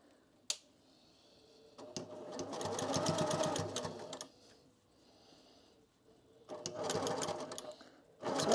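A sewing machine stitches a plushie in two bursts of rapid, even needle chatter, each lasting a couple of seconds, with quiet pauses and a sharp click between them.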